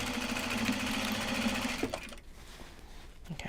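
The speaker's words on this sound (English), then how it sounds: "my next bobbin is wound." A sewing machine winds a bobbin with a loud, steady motor whir for nearly two seconds, then stops, leaving faint handling noises.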